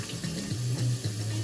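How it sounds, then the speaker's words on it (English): Hot water runs from a tap over a sauce sachet held beneath it, a steady close gushing stream with shifting low gurgles as the packet moves in the flow. "just run it over some hot water"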